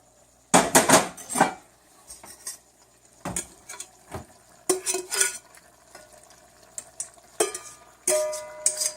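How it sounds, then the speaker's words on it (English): Pieces of lamb stew meat and bacon bits scraped and dropped back into a metal pot, a string of clanking spoon-on-pot knocks and scrapes in irregular bursts, close and fairly loud, with a faint sizzle between. "I'm going to take all this meat, I'm going to put it right back in the pot."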